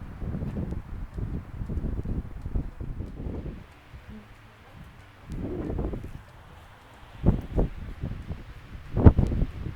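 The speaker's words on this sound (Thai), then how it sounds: "ได้ยินเสียงลม" Strong wind in open countryside in the USA buffets the microphone in loud, rumbling gusts that come and go in bursts, with brief calmer lulls between them.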